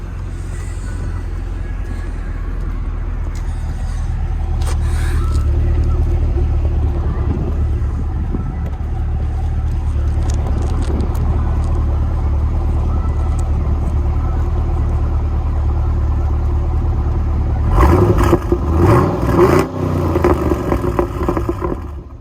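A 2017 Chevy SS / Holden Commodore idles with a steady low rumble, then is revved several times near the end in sharp, loud bursts.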